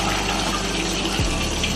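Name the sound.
water draining from rinsed rice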